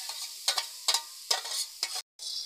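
Grated coconut frying in a pan for a pati-shapta filling, stirred in four or five quick scraping, sizzling bursts, close and clear, with a brief silent gap near the end.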